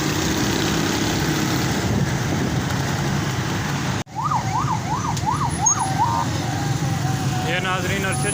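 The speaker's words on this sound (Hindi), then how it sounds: "ये नाजरीन अरशद शरीफ का जो जनाजा है इस टाइम एम्बुलेंस में फैसल मस्जिद की तरफ लेकर जाया जा रहा है।" Ambulance carrying a body in a large funeral procession toward Faisal Mosque in Islamabad, its wailing siren rising and falling in the second half over steady traffic rumble and crowd noise, with a brief sharp break midway.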